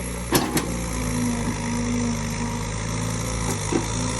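An excavator engine running at about half throttle, a steady close mechanical drone with a sustained hum, broken by a few brief clanks near the start and end.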